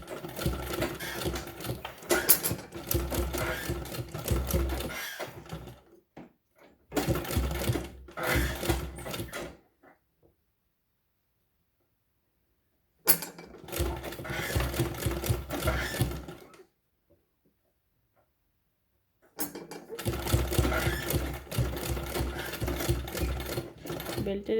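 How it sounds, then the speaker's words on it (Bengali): A sewing machine stitches the end of a school dress belt in several separate bursts, loud and close, with silent pauses between the runs. "তো এখন আমি এই মাথাও সেলাই করে নিচ্ছি।"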